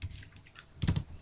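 Quick light keystrokes on a computer keyboard, a few soft taps followed by a slightly louder cluster of clicks near the end, close and quiet with no talking.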